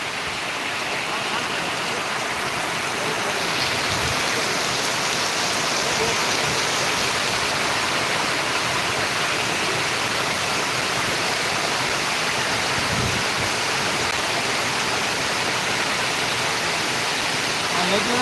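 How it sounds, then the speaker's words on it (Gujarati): Heavy rain roars steadily throughout in Gondal, a dense, even wash of noise with a couple of faint low thumps. "ગોંડલમાં ધોધમાર વરસાદ"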